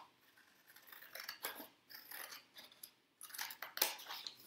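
Large scissors snip through craft paper in a run of crisp, close cuts, some quick and clustered, others spaced apart, with no talking over them.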